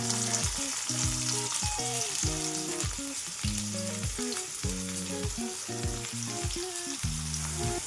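Onion fries in oil with cumin for tomato chutney, giving a steady, bright sizzle with occasional stirring, while background music plays underneath.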